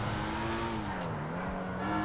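A Volkswagen Beetle with its exhaust removed drones along in GTA 5, a steady engine roar with a wavering pitch that dips and rises, plus brief tire noise.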